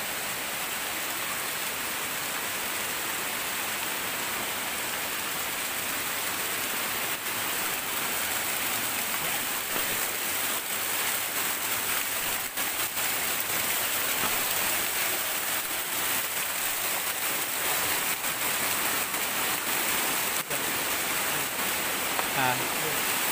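A waterfall plunges into its pool, a constant broadband rush of falling water that stays even and unbroken throughout, heard from a moderate distance with no other sounds rising above it.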